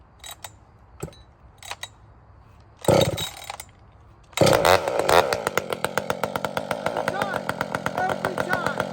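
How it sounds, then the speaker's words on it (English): A chainsaw, choked with no throttle, is pull-started: a few quiet rustles, two sharp cord pulls, then the engine catches and runs loud and steady, its idle pulsing rapidly. "This is the starting procedure for this saw."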